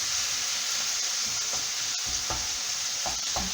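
Ground beef fries with chili in a pan, a loud, continuous sizzle broken up as it cooks, with occasional low knocks of stirring under the hiss.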